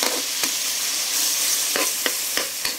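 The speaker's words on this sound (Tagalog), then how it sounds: "Halo lang muna ulit." Pork liver frying in a pan with oyster sauce and soy sauce gives a steady close sizzle, with a handful of sharp scraping clicks as it is stirred, and no talking.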